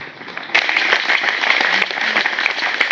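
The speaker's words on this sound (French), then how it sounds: "On va applaudir encore très fort pour lui." An audience at a peace gathering in Casamance applauds a professor, dense continuous clapping that swells suddenly after a brief quieter start and holds steady to the end.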